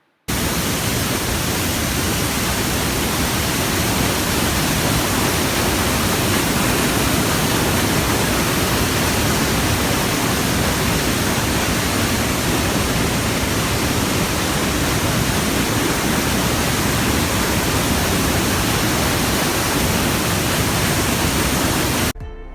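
Waterfall near Baños, Ecuador, a powerful continuous roar of falling water, loud, broad and unbroken from start to finish with no voices.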